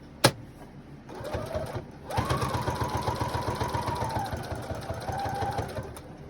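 A sewing machine stitches a square on a fabric clothing cover, an adult bib, with a rapid steady hum running continuously after a brief start and an early sharp click.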